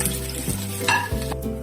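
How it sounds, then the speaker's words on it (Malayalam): Grated coconut and ginger fry in a pan for a beef fry, giving a steady close sizzle with a few stirring scrapes and a low steady hum, no voices. "തേങ്ങയും ഇഞ്ചിയും കൂടെ ഇട്ട് ലേശ ഇഞ്ചി അതോടെ ഇട്ട് വറുത്ത്"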